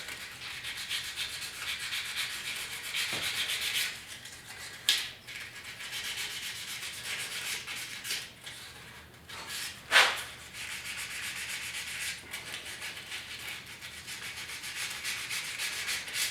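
Hand sanding with 280 grit paper on the plastic decklid grill of a Porsche 911, a soft continuous scratchy rubbing with a few sharper scrapes and knocks, heard alone.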